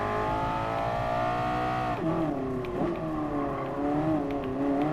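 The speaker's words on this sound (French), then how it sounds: "Oh, c'est une vieille BM celle-là." Old BMW car engine in Gran Turismo Sport, a steady high drone that drops and then revs up and down unevenly, loud and continuous with no talking.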